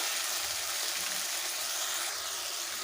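Spices, tomato paste, salt and turmeric frying hard in a pan for a Bengali katla kalia fish curry, giving a steady, close, continuous sizzle and hiss with no voices.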